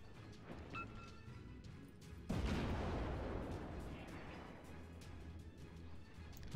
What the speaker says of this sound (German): Vielleicht mal mit AP schießen.